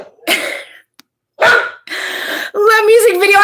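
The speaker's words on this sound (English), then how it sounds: "do you hear my dog barking? My dog is barking at these comments and he can't even read them" A dog barks indoors during a live stream, several sharp, loud barks with gaps between them, and a person talks at the end.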